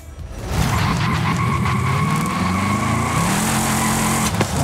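An American rear-wheel-drive car in Forza Horizon 5 revs loudly and skids, its engine note climbing and shifting while tires squeal, close and alone without speech.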